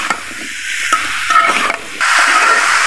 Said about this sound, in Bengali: এগুলোকে এখন ছুরির সাহায্যে 2 মিনিট নাড়াচাড়া করব।